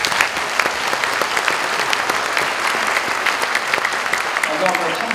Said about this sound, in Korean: 이배용 총장님께 다시 한번 감사의 뜨거운 박수를 한번 해주시기 바랍니다